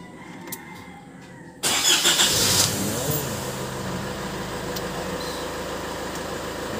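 Isuzu MU-X diesel engine cranking and firing up after EGR and throttle body cleaning and a fuel filter change, a sudden loud start settling into a steady close idle.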